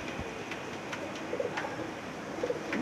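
Soft pigeon coos come through faintly over a steady background hum, a few low calls spread across a short stretch.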